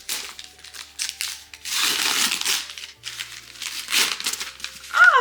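Wrapping paper on an advent calendar gift crinkles and tears in several loud, close bursts separated by brief pauses, ending with a faint high squeak.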